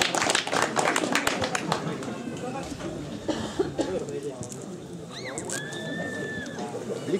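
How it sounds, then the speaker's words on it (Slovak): Applause from an audience at a children's event in Dubovany breaks out in a burst of clapping, then fades into murmuring crowd noise and a speaking voice. "Poprosíme potlesk."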